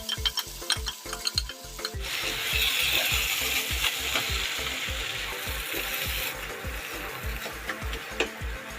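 Boiled lentils for tadka dal tipped into a hot spiced pan with Kashmiri chilli, a loud steady sizzle breaking out over a regular rhythmic scraping and stirring, with no one speaking.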